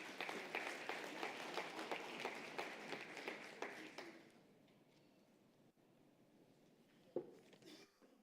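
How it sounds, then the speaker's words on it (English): Audience applause at an investment conference in Gauteng welcoming the Executive Mayor of Johannesburg to the stage: dense, steady clapping for about four seconds that then fades to quiet room tone with a few scattered sounds. "Let's give him a big round of applause."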